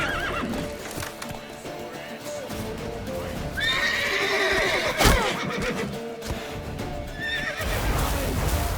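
Horses in The Witcher III whinny loudly several times over a busy game soundscape of hooves, music and shouting voices during a chaotic ride.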